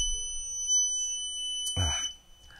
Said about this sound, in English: Forgot that my buzzer goes off when I do that.